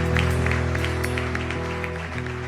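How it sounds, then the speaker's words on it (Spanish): Congregation applause during a church sermon, continuous clapping spread across the room over a steady low hum, fading slightly toward the end. "Fuerte ese aplauso al Señor."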